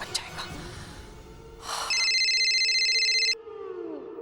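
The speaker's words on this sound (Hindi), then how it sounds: "पहले दादी माँ को कॉल करूँ या वसुंधरा जी का फोन रिसीव करूँ?" A telephone rings loudly in a domestic TV drama scene, a sustained electronic ring lasting over a second, preceded by a brief rustle and followed by quiet room tone.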